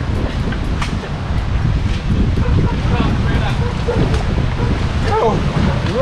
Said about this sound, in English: really windy and rough